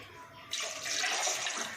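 A second cup of water mixed with coconut milk is poured into a cooking pot for coconut milk rice, a splashing, continuous pour that starts abruptly after a brief quiet moment and runs steadily to the end.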